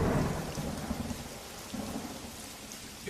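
Steady rain pours down throughout, with low rolling rumbles of thunder underneath, close and continuous, no voices.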